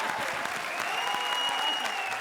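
Studio audience at a Comedy Circus comedy show applauding, a steady dense wash of clapping held at even loudness throughout with no voices over it.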